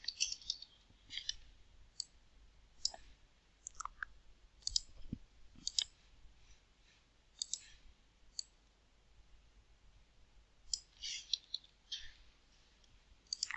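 Repeated computer mouse clicks while setting up linked buttons in Adobe Animate, sharp close taps spread irregularly across the stretch, sometimes in quick pairs, over quiet room hiss with no talking.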